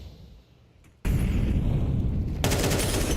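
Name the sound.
pistol gunfire in the video game Counter Strike 2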